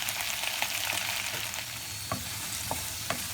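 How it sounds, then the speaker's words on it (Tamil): Okra pieces fry and sizzle steadily in hot oil for a Chettinad vendaikai mandi, with a few sharp scrapes and clicks of stirring standing out against the continuous hiss; no talking. "இந்த எண்ணெய் கொஞ்சம் காஞ்சோடனே நம்ம வந்து கட் பண்ணி வச்சுருக்க வெண்டைக்காயை அதில் சேர்த்து வதக்கிக்கலாம்"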